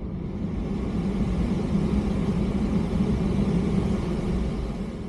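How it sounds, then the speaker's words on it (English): Air conditioning in a Tesla Model 3 rear-wheel-drive electric car cranked to maximum, a steady loud broadband fan roar filling the cabin, constant and unbroken, with no talk. "I wanted to crank the AC as high as it would go"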